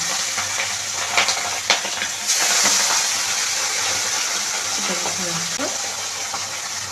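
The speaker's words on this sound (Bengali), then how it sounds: "ওই জন্য আমি নুন দিয়ে মাছটা ছাড়লাম" Fish is dropped into hot oil with salt in it and fries with a busy crackling sizzle close by. A voice talks over parts of it.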